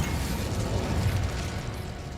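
Incendio fire spell cast in Hogwarts Legacy, a steady crackling, whooshing burst of flame and rumble that holds at moderate level for a couple of seconds, with no talking over it.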